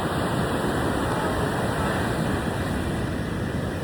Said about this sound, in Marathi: मस्तपैकी समुद्र आहे. एकदम सुंदर समुद्र आहे